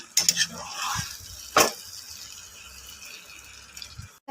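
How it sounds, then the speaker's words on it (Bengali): Mushrooms cooking in a pan are stirred with a utensil, giving a few scraping strokes and a brief clatter, followed by a soft, faint sizzle. "এবার একটু নাড়িয়ে নেব"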